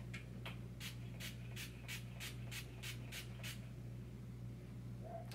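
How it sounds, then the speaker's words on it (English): NYX Dewy Finish setting spray is pumped in about ten quick, evenly spaced hissing bursts close by, then stops, leaving a faint background hum. "My finishing spray is a Dewy Finish by NYX."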